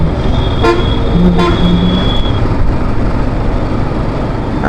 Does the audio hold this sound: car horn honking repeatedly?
yes